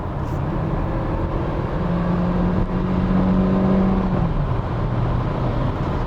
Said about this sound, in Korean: 급 스로틀을 밟았을 때 자세히 이거 사운드 들어보세요